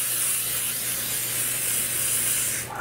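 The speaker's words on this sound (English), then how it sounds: "make sure you don't forget to spray the bottom of your cheesecake pan so that your crust doesn't stick" A continuous, even hiss of aerosol cooking spray onto a cheesecake pan runs close by for a few seconds without a break.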